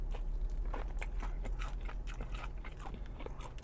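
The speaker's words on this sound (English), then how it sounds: "Nice and crunchy." Crispy fried chicken wings from a Newark takeout bitten and chewed up close, a dense series of sharp crunches and crackles over a low steady background hum, with no talk.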